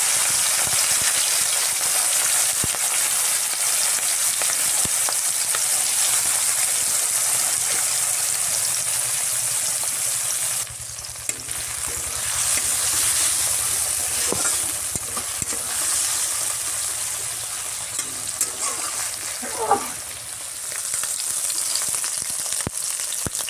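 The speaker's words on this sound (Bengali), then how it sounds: "এরপর চিংড়ি মাছগুলো ভেজে নেব" Prawns frying in mustard oil in a pan: loud, steady hiss and sizzle throughout, briefly dipping midway, with occasional stirring clicks and scrapes, and no one talking.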